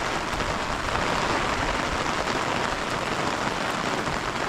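Heavy monsoon rain pours steadily in Konkan, a dense, even hiss of drops striking surfaces close by, with no break or voices.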